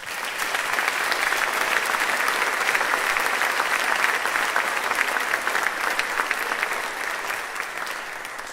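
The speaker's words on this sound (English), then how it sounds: "Let's give yourselves a round of applause." Steady, sustained clapping rises from a large crowd at a national convention and stays loud and even for over eight seconds before easing slightly at the end.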